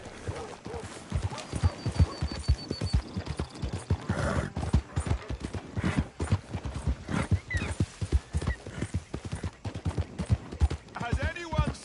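A horse's hooves clip-clop in a steady rhythmic gait while riding in the video game Red Dead Redemption 2, close and fairly loud, with a whinny and voices talking over the hoofbeats.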